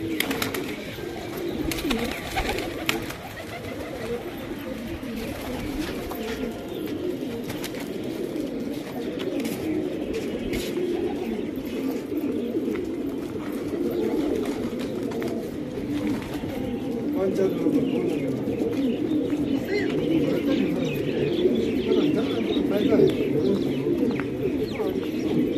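Sherazi pigeons coo continuously on a rooftop in Taunsa Sharif, a low, steady murmur of several birds close by, with people talking over them throughout.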